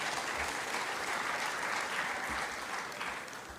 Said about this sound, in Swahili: Muwapigie makofi.